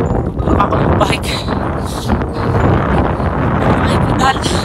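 Strong wind buffets the microphone outdoors in a small Alberta town, a loud rumbling roar with gusts throughout.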